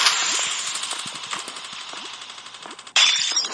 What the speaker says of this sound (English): Also, that enemy shooting.